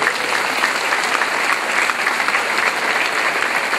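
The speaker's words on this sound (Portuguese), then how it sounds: "Você pode aplaudir o Senhor?" A church congregation applauds during a worship service, a dense, steady wash of many hands clapping at even loudness with no voices on top.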